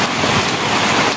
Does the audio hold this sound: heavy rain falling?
yes